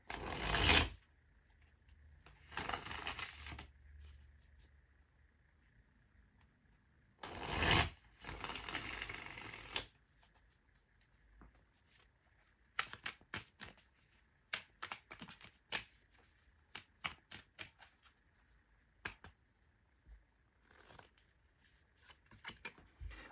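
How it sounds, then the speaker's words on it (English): Bursts of tarot card shuffling, a few long riffles followed by quicker flicks and taps of cards being laid down, close and fairly quiet with no talking. "let's shuffle the cards and see what's coming out"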